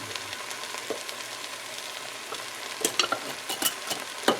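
Spices toasting in a pan for a pork and hatch chili stew: a steady soft sizzle with scattered sharp clicks and scrapes of stirring growing busier toward the end, close and without talk.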